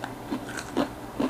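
Someone chews crunchy McDonald's food from the BTS Meal, such as chicken nuggets or fries, producing a few close, soft rhythmic crunches in quick succession.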